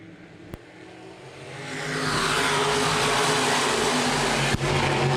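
Open wheel modified race cars at Baer Field Speedway roar off at the start of a feature race, engines swelling from a rumble into a loud, sustained, broadband howl as the pack accelerates.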